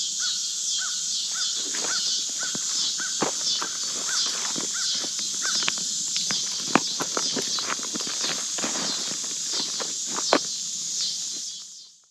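Outdoor birdsong with cawing calls over a steady high buzz of cicadas in Citrus Wildlife Management Area, scattered close clicks and taps throughout, no speech.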